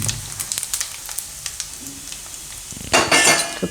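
Hot oil poured over spices and asafoetida for a red chilli and jaggery pickle, with light clinks and scattered crackles building to a sudden loud sizzling burst near the end.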